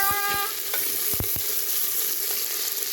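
Chopped onions and tomatoes for an okra tamarind curry frying in a pan, a steady close sizzle broken by a few sharp scrapes and clinks of a spoon stirring, no voices.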